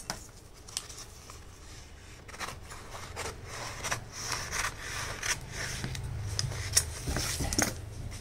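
A customer's photo print being cut to size in a photo frame studio, with a run of close, soft snipping and rubbing sounds that carry on steadily with no voices.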